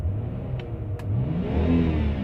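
A BMW E90 being rebuilt after a wreck revs its engine nearby, rising from an idle into a loud, climbing roar over about two seconds, with a couple of faint clicks at the start.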